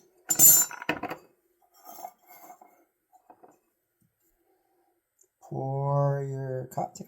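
A big ice cube is dropped into a drink glass for a maple bourbon bacon Old Fashioned, giving a sharp, close clunk followed by a few faint clicks, with speech heard afterward.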